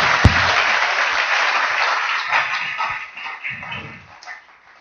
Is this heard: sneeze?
no